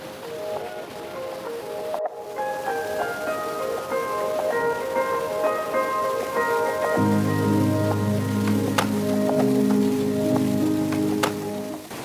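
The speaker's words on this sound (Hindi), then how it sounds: "सामने जो पानी नीचे आ रहा है ना उस पहाड़ी के ऊपर से चट्टानों से टकराते" Steady broadband rush of water from Lodh Falls crashing down a hillside onto rocks, continuous and fairly loud throughout, with a low tonal drone joining partway through.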